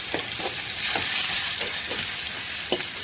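Koi fish fry and sizzle in oil in a pan, with a steady hiss throughout and several scraping strokes as the pieces are turned and stirred, close up with no talking.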